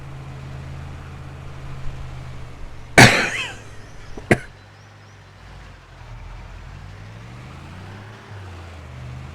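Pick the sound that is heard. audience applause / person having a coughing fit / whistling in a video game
person having a coughing fit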